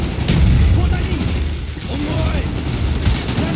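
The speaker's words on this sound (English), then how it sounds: "they threw a grenade again" Grenade explosions rumble through a chaotic Call of Duty: Black Ops match, dense booming blasts and gunfire mixed with scattered mechanical clatter, loud and close throughout.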